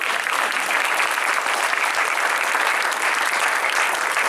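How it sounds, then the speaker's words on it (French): Warm audience applause for event staff at an inauguration evening, loud, close and thick, a constant roar of many hands clapping with no pause from start to finish. "j'aimerais un chaleureux applaudissement maintenant"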